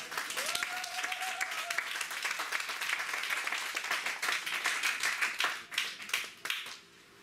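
A church congregation claps loudly and steadily in a dense, close burst, with a brief voice near the start, before the clapping thins into scattered claps and fades at the end.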